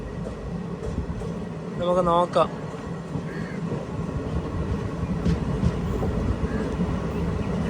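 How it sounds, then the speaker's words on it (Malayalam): Train rolling slowly into Payyanur railway station, a steady low rumble of wheels and carriage noise throughout, with a brief squeal and someone speaking briefly over it. "ട്രെയിൻ ഇതാ പയ്യന്നൂർ റെയിൽവേ സ്റ്റേഷനിലേക്ക് എത്തിയിരിക്കുകയാണ്. സ്ലോ ആയിട്ടാണ് പോകുന്നത്"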